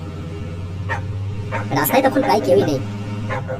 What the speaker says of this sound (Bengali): দূরে দূরে কুকুর ডাকছে।